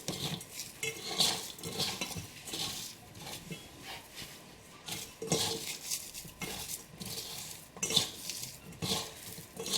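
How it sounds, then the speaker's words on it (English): Potato and onion pakora batter with salt being mixed by hand in a bowl, giving wet squelching and scraping with irregular clinks against the dish, close and steady for several seconds with no talk. "mix all of this by hand"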